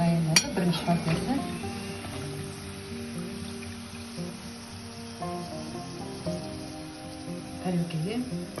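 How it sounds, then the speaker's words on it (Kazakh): Eggplant slices fry in hot sunflower-style liquid oil, giving a steady close sizzle with occasional clinks of utensils against the pan and a low tonal hum running underneath. "Қызып тұрған сұйық майымызға қуырып аламыз."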